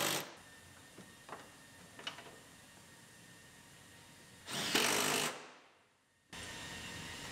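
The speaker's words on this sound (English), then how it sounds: "Put our rear seat belt in, and bolt it in." A tool bolts a rear seat belt into a 2013 Buick Enclave. Two short, loud mechanical whirring bursts come with faint ticks and taps between them, in a quiet interior with no voices.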